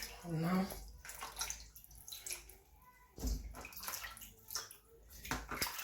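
Slimy food for nsala soup is washed by hand in water, with close sloshing and splashing that repeats in bursts while a person talks over it.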